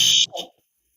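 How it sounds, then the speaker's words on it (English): Building fire alarm sounding, a loud electronic buzzing tone lasting about a quarter second before cutting off, followed by a brief softer burst, then silence. "If that alarm keeps going off, there might actually be a fire in the building"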